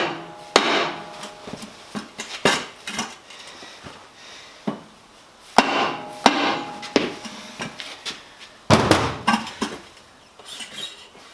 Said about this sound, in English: if I stand on everything and just give it a tap